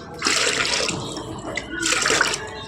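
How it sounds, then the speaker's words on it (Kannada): A girl sprays water outdoors in two loud hissing bursts separated by a short pause, splashing close by with no clear voices. "ಆದ್ರೂ ನೀರು ಹೊಡಿತಾ ಇದ್ದಾಳೆ"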